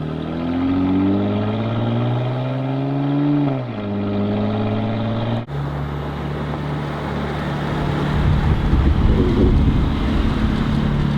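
A 2016 Cadillac CTS VSport with a Corsa axle-back exhaust, ZZP intake and Trifecta tune driving, heard loud and close as a steady engine drone that rises with revs, dips briefly with a gear change, then builds with rushing road noise.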